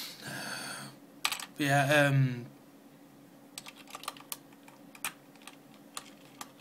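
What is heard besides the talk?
keys clicking on a computer keyboard being fixed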